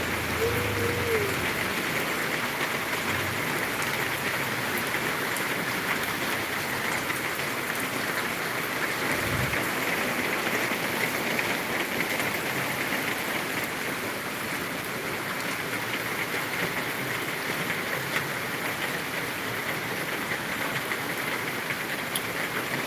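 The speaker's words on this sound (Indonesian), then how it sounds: "Nah, hujan kan, tuh." Steady rain falling during a seasonal October downpour, an even, continuous hiss of drops on surfaces at moderate level throughout, with a faint low rumble beneath and no speech.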